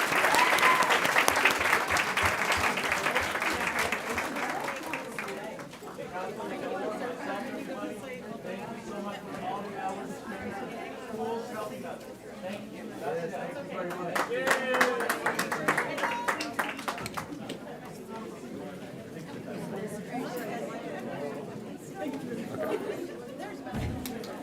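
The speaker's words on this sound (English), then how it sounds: "give them one more big round of applause" A big round of applause in a meeting room at a Board of Trustees session, strong clapping that tapers into chatter and scattered talk, with a second smaller swell of clapping midway.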